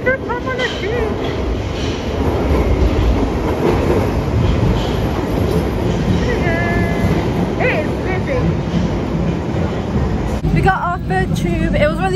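A busy London Underground tube train rumbling and rattling along the track, loud and close, with voices talking over the steady noise and sharp squeals near the end.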